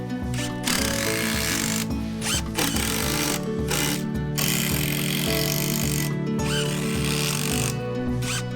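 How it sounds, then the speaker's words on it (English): Power driver tightening screws into a wooden staircase during a Japanese carpenter's renovation, a close, loud series of buzzing motor bursts with short pauses and ratcheting clicks between them. "To secure, first tighten the screws from the back to the front."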